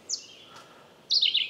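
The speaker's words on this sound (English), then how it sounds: "Say I have this red-eyed vireo that we've been playing with here." A red-eyed vireo high in a tree, picked up through a parabolic microphone, sings two short, clear, high phrases separated by a pause of about a second, isolated against a quiet background.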